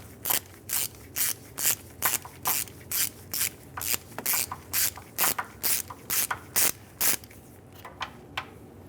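A ratchet wrench clicks in quick, regular bursts while loosening exhaust manifold nuts and studs on a 2003-2011 Mercury Grand Marquis, the sharp close pawl strokes repeating steadily before tapering off near the end.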